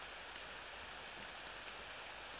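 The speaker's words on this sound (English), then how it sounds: "It's raining! It's pouring!" Rain hisses steadily in the Ao Oni video game, a soft, even wash of falling water that runs unbroken for a couple of seconds with nothing else over it.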